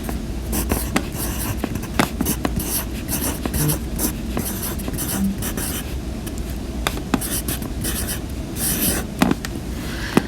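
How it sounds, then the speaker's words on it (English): A pencil writes a name and number at the top of a workbook page, with close, continuous scratchy strokes and brief pauses between letters, and no talking. "We're going to start off by putting our name and number at the top."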